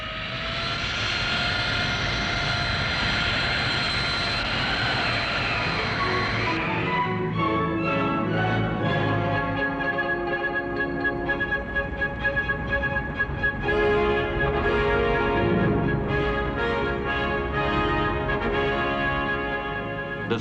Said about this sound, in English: The strike is on, and the planes trundle out from under the trees under their own power.